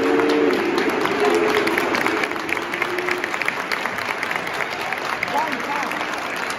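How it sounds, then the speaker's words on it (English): Football stadium crowd at Sunderland versus Birmingham City claps steadily in a broad, dense wash, with a low sustained vocal tone early on that may be boos; a voice speaks nearby over the crowd. "Mostly claps. Some boos though."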